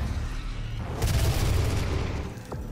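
A DOOM shooter weapon fires aimed down the scope, giving heavy booming gunshots with a thick low rumble over a short, loud stretch.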